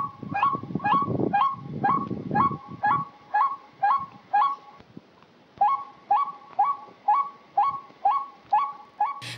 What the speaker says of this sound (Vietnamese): người săn chim trời chỉ cần bật loa giăng lưới, lập tức khi nghe thấy tiếng kêu của đồng loại